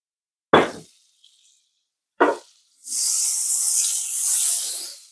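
Oil and butter hit a hot frying pan while fried chicken tenders are being made, with two sharp knocks and then a bright, steady sizzle that swells close by and keeps going.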